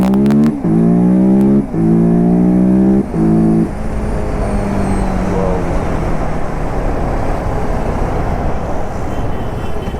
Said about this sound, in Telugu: ట్రాఫిక్